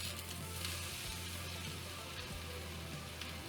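Cauliflower steak sizzles in a hot pan with an even, close, continuous hiss and crackle and no talking.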